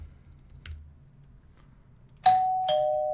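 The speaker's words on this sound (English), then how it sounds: "Doorbell." A two-tone doorbell chime rings once, two clear notes in quick succession with the second ringing out, after a quiet stretch of faint background noise.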